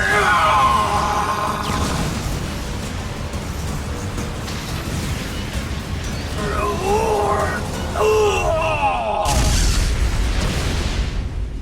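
Drago's fire wave attack in a Bakugan cartoon, a rumbling, sustained blast with whooshing effects, under shouting and voices, ending in a sharp, loud burst.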